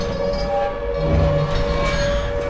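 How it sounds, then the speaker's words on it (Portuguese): The Silent Hill siren from the Silent Hill 2 video game blares as a loud, sustained tonal wail over a rumbling background, steady for the whole stretch with no talk. "Sirene de Silent Hill tocou e foi embora."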